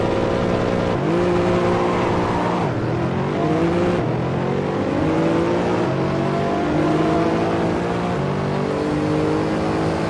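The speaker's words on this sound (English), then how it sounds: "That Mercedes has amazing acceleration." A Mercedes race car engine in Assetto Corsa roars continuously, revving up through gears with pitch climbing and dropping at each shift, loud and close throughout.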